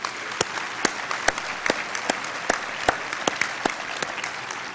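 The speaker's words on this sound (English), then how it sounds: "Please give her and her team a big round of applause." Audience applause at the 40th Annual NHSA Conference, a steady wash of clapping from a large crowd with sharper individual claps standing out, sustained throughout with no speech over it.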